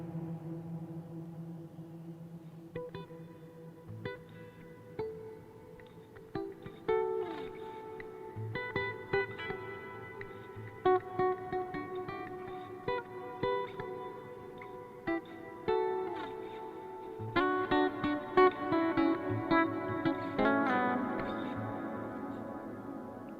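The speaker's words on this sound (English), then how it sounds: "as the reverb trails off, you're just hearing all of this warbling and modulation" An electric guitar runs through an EQD Avalanche Run delay and reverb pedal. Quiet plucked notes and chords ring out into long, warbling, modulated reverb trails that pile up and swell toward the end.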